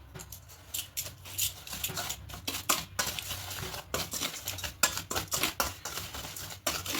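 Semolina, sugar, salt and baking powder are stirred together in a bowl, giving quick, dry, irregular scraping and ticking taps that run steadily throughout at close range with no voices.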